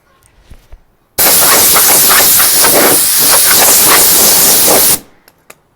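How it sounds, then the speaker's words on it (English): Compressed air from an air hose blasts onto an original 1967 Porsche 911 wheel in one loud, steady hiss of about four seconds that starts and stops abruptly, with faint handling sounds before and after. "I'm going to blow it off with an air hose"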